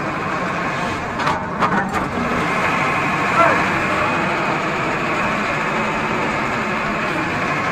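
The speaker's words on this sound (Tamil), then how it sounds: "இப்போலாம் நான் வண்டியிலே ஸ்டார்ட் பண்ணியிருக்கோம்." A Tata vehicle engine idling steadily after being started, a continuous low rumble with a few faint clicks and knocks near the beginning, while someone talks over it.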